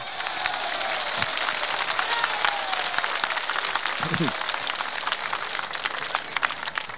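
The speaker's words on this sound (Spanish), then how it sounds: "Gracias por aplaudir" Outdoors at a rural electrification inauguration, a crowd applauds with continuous crackling clapping, and a voice speaks over it partway through.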